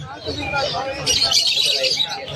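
Busy chatter of many small birds, including white-beaked and opaline birds, at an open pet market in stormy weather, squawks and chirps overlapping, with people talking nearby throughout.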